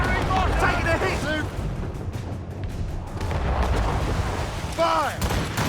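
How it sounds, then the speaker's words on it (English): Naval cannon and mortar fire in the Assassin's Creed Rogue video game ring out as dense, booming blasts over continuous battle noise, with shouted voices in the mix. "They're firing mortars!"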